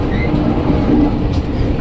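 KRL commuter electric train running on the line toward Rangkasbitung, a steady loud rumble of wheels and car noise close by, with no talking.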